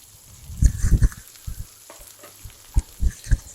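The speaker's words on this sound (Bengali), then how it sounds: "এই তো এদিকে আমি ধুন্দুলটা ভাজি করব" Ridge gourd frying in a pan with dried chillies, onion, ginger-garlic paste, cumin paste and turmeric, heard as soft intermittent sizzling and stirring scrapes in short bursts, close and fairly quiet.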